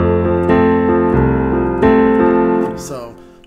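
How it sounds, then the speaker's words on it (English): A country-style piano plays swung eighth notes in a broken chord, lilting uneven notes over low bass, close and loud, trailing off at the end. "swinging the eighth, so it's going to sound like this instead."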